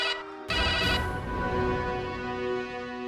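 A telephone rings steadily for about three seconds during an outgoing call in a Hindi TV serial drama, a sustained tonal ring with no voices over it.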